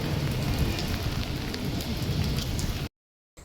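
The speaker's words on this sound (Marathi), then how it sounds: "किती मोठा पाऊस आला." Heavy monsoon rain pouring down in a dense, loud, unbroken roar of drops for about three seconds before cutting abruptly to silence.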